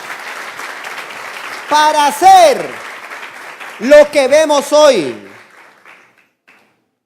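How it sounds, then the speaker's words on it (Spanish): A church congregation applauds in a steady wash of clapping throughout, while someone speaks loudly over it in bursts and the clapping fades out near the end. "Dele ese fuerte aplauso al Rey"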